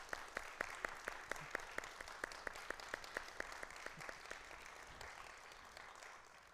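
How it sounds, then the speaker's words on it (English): Audience at a foundation's annual meeting clapping in a steady, even rhythm, faint and distant, with no talking over it. "Can we give a round of applause for Pete?"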